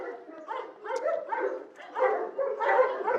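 Dogs bark and yip in short bursts at a property in Manila, several close, sharp barks in an uneven rhythm that grow louder toward the end.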